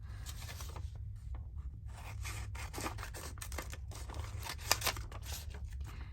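Scissors cutting out small pieces of paper, a series of close, crisp snipping and rustling sounds in an irregular rhythm against a quiet low background hum.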